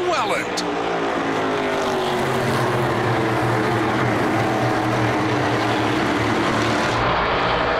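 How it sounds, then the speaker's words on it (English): NASCAR Pinty's Series stock cars at the start of the Rankin 200, a dense, loud, continuous roar of many engines revving and droning together, with a commentator talking over it. "Sounds of horsepower coming to life down the back straightaway."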